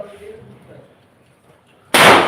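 A quiet outdoor lull during Diwali, then a single sharp matchstick firecracker burst near the end, loud and close.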